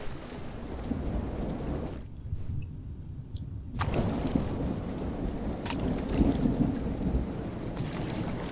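A steady roar of heavy rain mixes with low rumbling thunder in the video game Horror Tales: The Beggar. The downpour briefly thins out before a rumbling swell returns, and it stays dense and continuous throughout.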